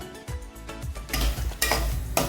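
Semolina being roasted and stirred in a pan over a medium flame until golden: dry scraping stirs and a soft sizzle, growing louder toward the end with a few sharp utensil scrapes.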